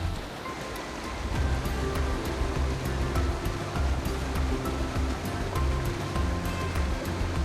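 Rushing river water at Jinyue Waterfall in Nan'ao, Yilan, a steady broadband roar of flowing current and splashing that holds constant and close throughout, with no voices.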